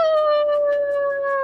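A person imitates a wolf howl with one long, steady, slightly falling tone, loud and close, with no other sound around it.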